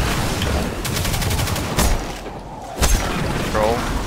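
Rapid gunfire and heavy booms sound in Destiny 2 during a raid encounter, with bursts of shots and a couple of loud impacts while players talk throughout.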